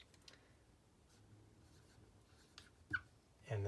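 Pen scratching across paper while working through practice test answers, a quiet, steady writing sound with a few brief louder marks near the end.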